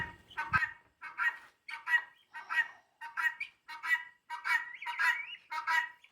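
Guinea fowl call loudly in a stall, a rapid run of harsh, repeated cries in regular pulses, several birds overlapping as the calling builds and carries on without pause.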